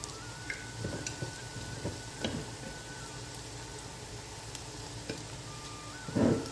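Fresh ginger garlic paste fries in a pan for fish curry with a faint, low sizzle, broken by a few stirring clinks and a louder scrape near the end.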